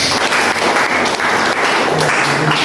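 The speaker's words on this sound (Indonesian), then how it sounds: "Kasih tepuk tangan untuk dia dulu." Applause fills a classroom as students clap for a classmate, a dense, steady patter of many hands lasting the whole moment, with a faint voice murmuring underneath near the end.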